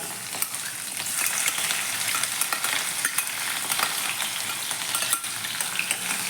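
Chopped ginger and garlic crackle in hot coconut oil, a bright, busy sizzle that jumps up as they hit the pan and then keeps going steadily, close and loud, with a few light stirring clicks.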